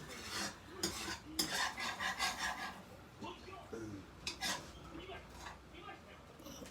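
Panang curry paste being stirred and fried in oil in a pan, scraping and stirring strokes with a soft sizzle, with a person talking over it in places.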